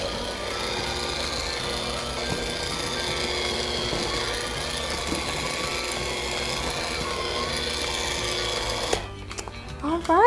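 An electric mixer blending dry ingredients into ginger cookie dough, a steady close motor whir with rhythmic beater clatter, then it stops and handling noises follow.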